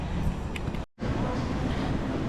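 Steady low rumble of a subway train in motion, broken by a brief moment of silence before the noise resumes.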